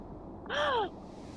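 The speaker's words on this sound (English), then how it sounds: "Me gasping." A person gasps once, a short, sharp, rising-then-falling intake of breath with a slightly tonal, voiced edge, close and clear against quiet background noise.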